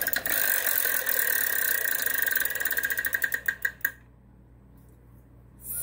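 A Wheel of Fortune wheel spins with a fast run of clicks that spreads out and slows to single loud ticks before it stops, with a quiet pause after.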